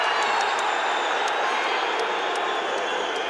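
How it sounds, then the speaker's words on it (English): Swansea City football supporters in a stadium raise a steady, roaring wash of crowd noise and chanting, broad and continuous throughout without a break. "more vocals from the Swansea crowd as a lunging tackle came in"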